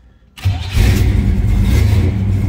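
A 1970 Chevrolet Chevelle SS 454 V8 cranks and fires up with a loud roar, then settles into a deep, rumbling, slightly lumpy idle close by.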